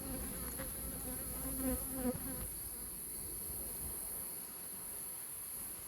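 Dense, steady buzzing of many honeybees at a stacked hive, close and continuous, with a constant hum that fills the whole stretch.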